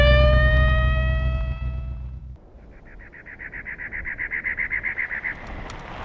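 A sheriff police car's siren in the Cars video game wails loudly at first, then switches to a fast, rhythmic yelping pulse through the rest of the clip.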